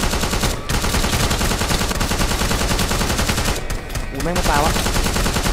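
A gun fires in a Minecraft lucky block mod game with a T-800 robot enemy. Dense, rapid bursts of loud shots run almost nonstop while someone talks excitedly over them.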